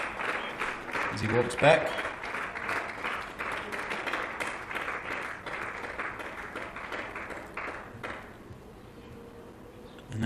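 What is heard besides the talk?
applause for a batsman walking back after his innings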